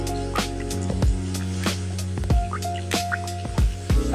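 Wet squishing and dripping from shampoo being squeezed out in a shower, a string of short liquid squelches and drips against a steady background hum, close and fairly loud, with no talking.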